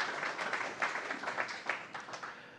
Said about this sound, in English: Everybody give Tammy Camp a round of applause.